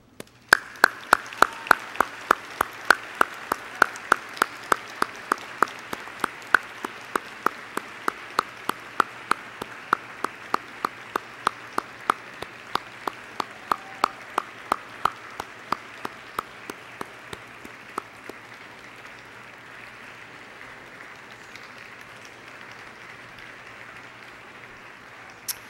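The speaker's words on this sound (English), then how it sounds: "and thank them by clapping for them." Medical school graduates at a graduation ceremony clapping in a steady, evenly paced rhythm, thanking their families and friends; the sharp, regular claps are loud at first, then gradually grow fainter until they fade out.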